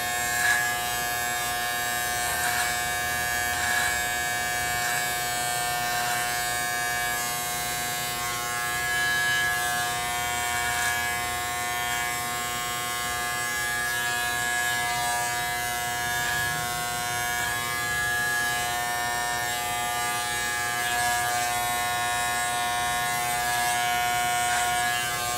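An electric peanut clipper buzzes throughout a flattop haircut, a steady close-up drone with a high whining tone and slight wavers as it moves, running alone without talk.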